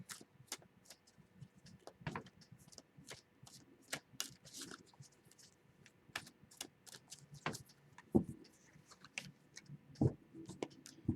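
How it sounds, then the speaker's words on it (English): Large, thick tarot-style cards shuffled by hand, soft irregular riffling and tapping clicks scattered through a quiet room, faint and close with no talking. "These cards are a little bit harder to shuffle because they are large and thick."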